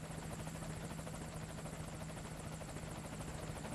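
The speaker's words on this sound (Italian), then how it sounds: "Che bello che arriva in lontananza l'elicottero." A helicopter approaches from far off in the Metal Gear Solid V: Ground Zeroes video game, its rotor chop a steady, even thrum at moderate level throughout, with no voices.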